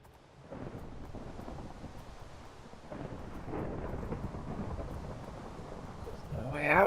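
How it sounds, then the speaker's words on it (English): Thunder in Minecraft during a storm, a low, broad rumble rolling on and building over steady rain-like hiss, with a louder swell at the end. "And it's thundering."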